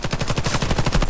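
An AK-103 rifle in Warface fires a rapid full-auto burst, about a dozen sharp, loud, close shots in an even rhythm across the brief moment, with no talk.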